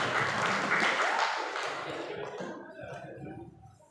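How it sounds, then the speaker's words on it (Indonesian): An audience applauds all the teams at the final of a Fahmil Qur'an quiz competition; steady broadband clapping fills the room, then fades out over about four seconds. "Tepuk tangan untuk semua regu."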